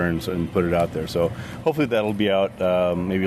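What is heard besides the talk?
No distinct noise like a dog, phone or traffic.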